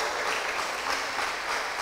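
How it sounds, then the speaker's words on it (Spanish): A church congregation gives a strong round of applause to the Lord during a Sunday service, a brief, steady, even wash of clapping heard alone. "¿por qué no le das un fuerte aplauso al Señor?"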